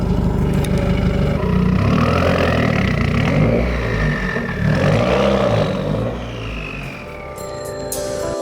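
A Subaru WRX engine revs hard and loud on a dyno, rising and falling through several surges with a rough, droning exhaust note, then winding down.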